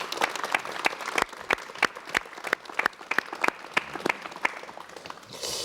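Studio audience applause on a 1980s Korean TV talk show, a modest crowd clapping with distinct individual claps, moderately loud and fairly near throughout.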